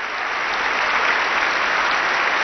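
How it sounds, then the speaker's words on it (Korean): A long, sustained applause from a large gathering at the Vatican around the papal conclave, an even, dense wash of clapping with no breaks. "박수가 길게 이어집니다."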